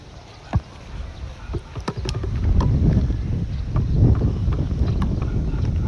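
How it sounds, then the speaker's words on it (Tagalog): Strong gusty wind blowing during box kite flying outdoors in stormy weather, a loud rumbling buffet against the microphone that builds and stays heavy, with scattered knocks and handling noise. "Lakas ng hangin."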